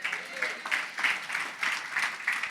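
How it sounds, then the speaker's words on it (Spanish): A church congregation claps in short, rhythmic bursts of applause, moderately distant and modest in size, with a voice faintly present underneath. "Un aplauso a Alan para que se anime"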